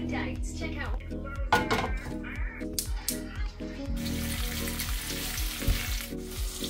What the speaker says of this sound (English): It's time to cook for breakfast, and I have found a saucepan and a spatula. Let's get that fry up ready.